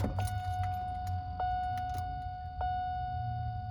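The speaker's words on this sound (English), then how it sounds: "We're going to turn our key on. It's going to ding," Repeated key-on warning chime in a 1986-91 Buick H-body, clear steady dings ringing close inside the car, with faint key jangling at the start.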